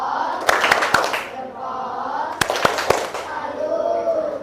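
A classroom group claps a rhythmic salute in an Indonesian primary-school civics lesson, sharp claps landing in two quick bursts of several beats each, close and loud, with voices and room chatter under them.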